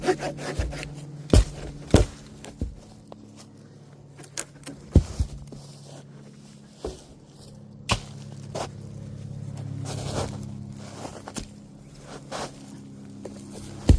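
Sawing through a fallen tree blocking a trail during greenway maintenance, with irregular rasping strokes and woody knocks over a low steady hum, near and fairly quiet.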